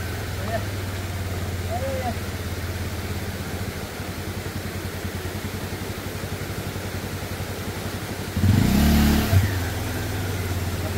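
A motorbike is ridden across a flood-damaged road with a landslide. Its engine drones steadily, then revs hard in a short loud burst near the end, with people talking over it.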